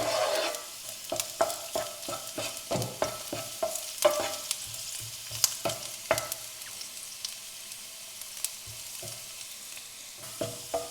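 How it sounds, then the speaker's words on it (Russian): Garlic frying in oil in a pan for stuffed peppers, a continuous close sizzle broken by frequent sharp spatula taps and scrapes in an irregular rhythm, with no talking. "И первым делом обжариваем чеснок."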